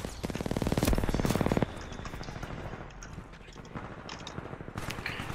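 Rapid automatic fire from the Alternator gun in Titanfall 2, a tight burst of evenly spaced shots for about a second and a half, then quieter scattered game sounds and a few faint later shots.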